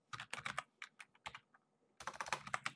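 Fast, crisp keystrokes on a computer keyboard in two bursts with a short pause between, close and quiet against a silent background, no voices.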